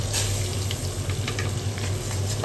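Rice fries in melted butter in a cooking pot, giving a steady, close sizzle with light crackling and occasional stirring scrapes and no talking.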